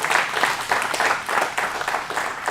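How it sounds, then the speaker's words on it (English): Applause from a club audience at a live music venue, a soft even wash of many hands clapping for a couple of seconds, somewhat distant and fairly quiet. "Give her a big round of applause."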